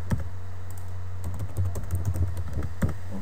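Keys on a computer keyboard clatter in a short burst of close, crisp taps as a password is entered while setting up web hosting, with brief pauses between clusters of strokes.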